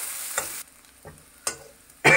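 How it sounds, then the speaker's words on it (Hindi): Finely chopped onion frying in a pan until brown, heard as short bursts of hissing sizzle with quiet gaps between them, ending on a loud close sizzle, with no talking. "प्याज को अच्छे ब्राउन होने तक हम भूनेंगे"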